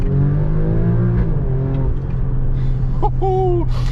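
A 2020 Alfa Romeo Stelvio Quadrifoglio engine rumbles loudly, pitch rising and falling as it revs through downshifts, heard up close from inside the moving SUV on Welsh roads.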